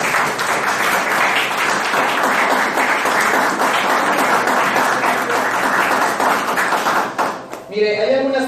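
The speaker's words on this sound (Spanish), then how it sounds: "Este aplauso es para ustedes que nos escuchan en las redes." Loud, dense applause from a church congregation holds steady for several seconds, then cuts off as a voice starts speaking.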